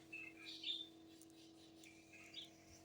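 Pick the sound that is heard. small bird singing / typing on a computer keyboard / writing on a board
small bird singing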